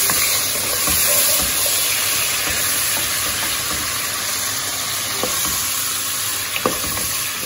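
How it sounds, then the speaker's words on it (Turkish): Minced meat browning in a hot pan sizzles with a dense, steady hiss close by, broken by occasional soft stirring clicks and scrapes, with no talking. "kıymalarım burada kavrulurken"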